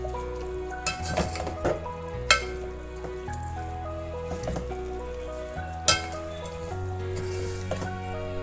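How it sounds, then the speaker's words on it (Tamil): Mutton sautés in a pan with pepper, coriander and turmeric, a soft steady sizzle broken by a few sharp clinks and stirring knocks of a utensil against the vessel. "இது ஒரு 2-3 நிமிஷம் நல்லா இதிலேயே வதங்கட்டும்."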